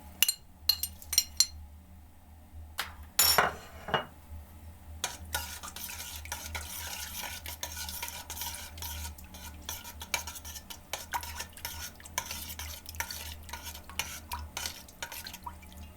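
A spoon clinks and scrapes in a bowl of yeast dough with warm water for belyashi, then steady soft stirring and mixing sounds continue, close and fairly quiet, with no talking.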